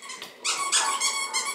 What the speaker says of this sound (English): She's like a little growl to it.